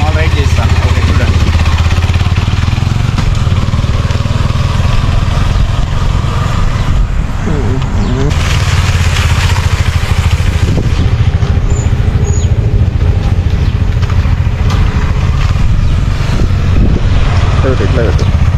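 KTM Duke 390 Adventure motorcycle being ridden, a steady loud engine drone with wind rush throughout, under someone talking.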